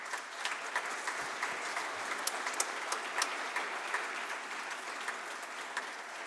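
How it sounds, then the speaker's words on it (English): An audience at a conference closing session claps warmly for an ambassador and his team, a dense continuous wash of applause with individual sharp claps standing out, no voices over it. "Everybody give Ambassador Rayhawk and his team a great round of applause."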